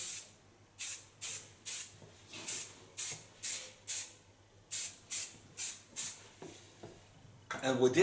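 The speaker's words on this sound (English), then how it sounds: "And to finish, I take the finish spray." Rapid bursts of aerosol spray hiss in short, evenly spaced puffs, about a dozen in a row, close and clear, ending with some rustling.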